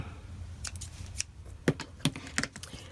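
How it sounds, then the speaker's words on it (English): Scissors snipping thread for a sewn junk journal, a few crisp close clicks spaced irregularly over a quiet background. "And then I just snip it."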